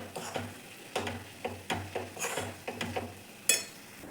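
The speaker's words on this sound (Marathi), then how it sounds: "परत व्यवस्थित मिक्स करून घ्यायचं आहे." A spoon mixes grated carrot rasgulla mixture with a large spoonful of sugar in a pan, making rhythmic scraping and tapping strokes about twice a second, close and moderately quiet, with one sharper knock near the end.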